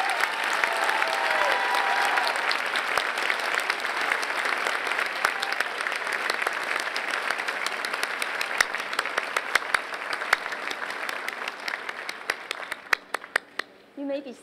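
A graduation convocation audience breaks into sustained applause, dense steady clapping from a large crowd that thins out and stops near the end.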